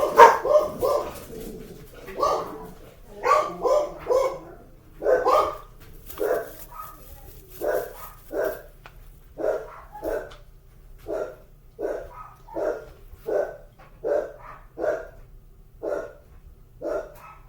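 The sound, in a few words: dogs barking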